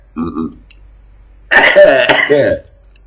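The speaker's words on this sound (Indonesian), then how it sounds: "Sampai batuk gue." A short cough at the start, then a louder harsh burst of coughing and throat clearing, close to the microphone.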